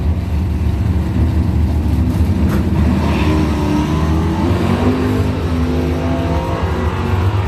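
A Dodge Dart and a 1967 Camaro launch in a bracket drag race, engines roaring loud and continuous at close range with a dense, throaty rumble and rising revs throughout.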